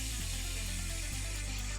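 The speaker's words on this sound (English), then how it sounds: "So let's go ahead and spray a little bit." An airbrush sprays white primer in a steady, faint hiss with a low hum beneath it, continuous and close for just under two seconds.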